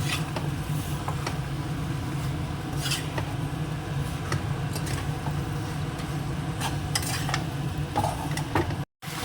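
Curry sautés in a pan, with a low steady sizzle broken by scattered scraping and clinks of a spoon against the pan as it is stirred, close by and without speech.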